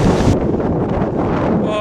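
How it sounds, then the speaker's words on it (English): Strong wind on a farm buffeting the microphone in a loud, continuous roar with gusty swells, close and overwhelming. "Oh, it's so windy."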